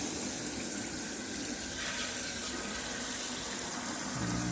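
Water runs steadily from a tap into a sink, a continuous close gush without pause and no talking.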